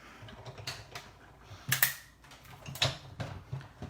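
A Big Shot die-cutting machine cranks paper through a cutting pad and die, giving a few close, dry mechanical clicks and ratcheting bursts in a quiet room with no talk.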